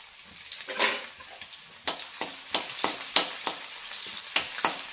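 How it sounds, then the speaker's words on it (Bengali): Onion and garlic frying in a pan for a dried-fish (shutki) charchari, with a steady broadband sizzle and a series of sharp scraping stir strokes coming every half second or so, close and fairly loud, with no talking. "তো পেঁয়াজ রসুনগুলোকে একটু ভেজে নেবো এরকম করে"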